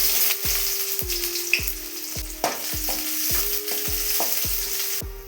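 Onion sizzling in hot oil with tempering spices and chillies for beetroot fry, a close steady crackle with a regular beat of metal scraping and stirring strokes about every half second.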